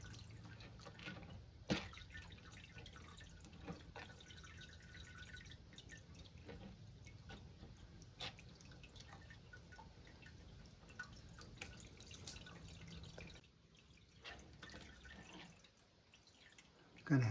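Water drips and drains in a homemade large-capacity cat water fountain, with scattered sharp drip ticks over a faint constant trickle, quiet and close, stretching across many seconds.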